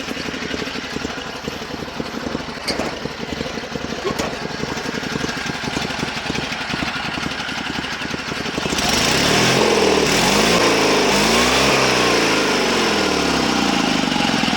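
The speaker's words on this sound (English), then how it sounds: "engine runs great" A Sears Suburban SS16 lawn tractor engine runs close and steady, a rough continuous drone with rattling, shifting to a louder, smoother pitch partway through.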